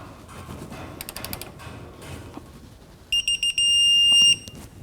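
Digital torque wrench tightening a rear lower control arm bolt on a 2007-2014 Cadillac Escalade: faint ratchet clicks, then three short beeps followed by a sustained tone at the set angle.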